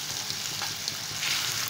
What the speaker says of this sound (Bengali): ফোড়ন থেকে একটু সুন্দর গন্ধ বেরানোর পর আমি এর মধ্যে পেঁয়াজ কুচি দিয়ে দিয়েছি।